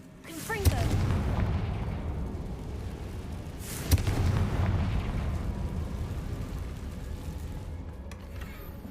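Two Confringo fire-spell blasts go off in Hogwarts Legacy, each a sharp boom followed by a rolling rumble, a few seconds apart over continuous game ambience.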